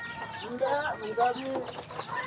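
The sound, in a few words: chicken, rooster clucking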